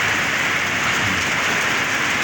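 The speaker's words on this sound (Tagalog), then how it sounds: "Sa lakas ng ulan na to," Heavy rain pours steadily on a farm in San Fernando, La Union, a dense, loud, unbroken hiss of drops on surfaces with no break across the moment.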